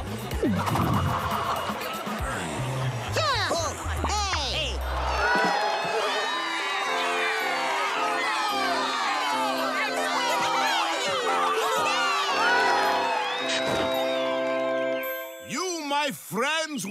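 Animated-film crowd cheering and whooping over a busy, bright soundtrack with music and tinkling effects, the noisy celebration sustained and loud almost throughout before easing near the end.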